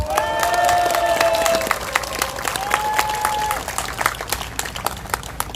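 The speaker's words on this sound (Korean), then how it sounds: "손상대 회장님께 박수 한번 보내주십시오." Rally crowd in Incheon applauding and cheering for a host, dense clapping with a voice and sustained tones over it, loud and close, thinning toward the end.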